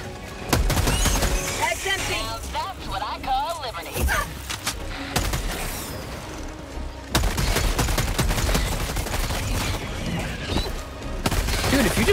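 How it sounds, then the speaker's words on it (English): Rapid weapon fire in Helldivers 2, with a laser gun among dense bursts of shots and blasts that run almost continuously, joined by explosions and someone talking over the chaos. "Just don't let the laser gun overheat, it just goes nuts."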